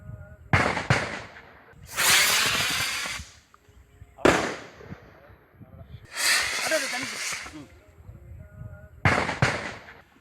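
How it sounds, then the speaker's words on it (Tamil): Firecrackers set off by forest officials to drive elephants back into the forest near Ooty, heard as several sharp loud bangs each followed by long crackling bursts, with a voice speaking between them. "இந்த யானைகளை வனத்துறையினர் பட்டாசுகள் வெடித்தும் தீ மூட்டியும் காட்டுக்குள் விரட்டும் பணியில் ஈடுபட்டனர்."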